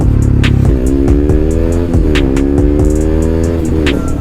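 A KTM Duke 125 motorcycle engine revs up and down repeatedly, loud and close, its pitch rising and falling in a series of throttle blips.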